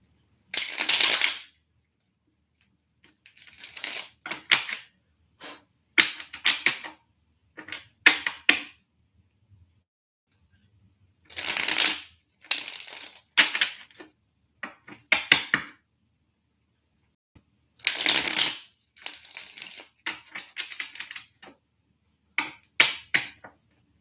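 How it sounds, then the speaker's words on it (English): Tarot cards are shuffled by hand in repeated riffling bursts close to the microphone, separated by short quiet pauses. "I'm shuffling again because I want to change the energy."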